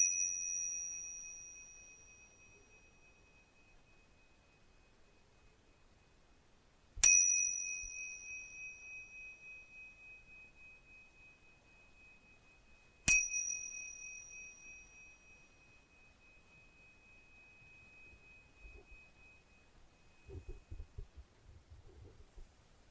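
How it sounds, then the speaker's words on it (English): A single bell chime rings out three times, each clear tone decaying slowly into silence, with faint rustling near the end. "And when you hear the bell, we can finish."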